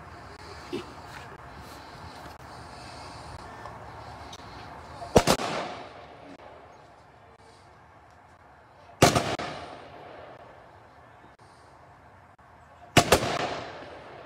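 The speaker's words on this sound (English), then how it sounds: "Next, we will have the rifle firing volley." A rifle volley fires at a military memorial service at a national cemetery, with three sharp distant cracks spaced about four seconds apart, each echoing away, over a quiet outdoor background.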